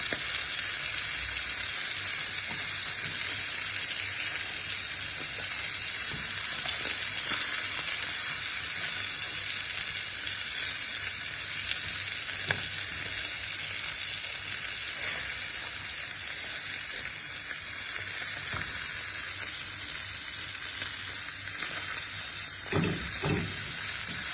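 Lamb brain fry sizzles in a pan as it is slowly turned and mixed, a steady close hiss of frying with occasional scraping and stirring clatters, and no one talks.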